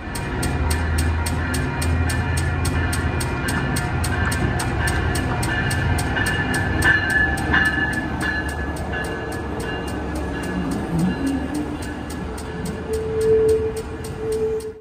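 Amtrak and Metra passenger trains rolling along a triple-track main line in downtown Chicago during rush hour, a steady loud rumble with rhythmic wheel clicks and a brief horn-like tone near the end.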